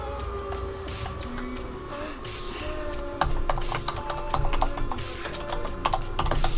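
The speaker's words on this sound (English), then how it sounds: "I'm just typing" Quick, irregular clicks of keys being typed on a computer keyboard, growing busier toward the end, with a low room hum underneath.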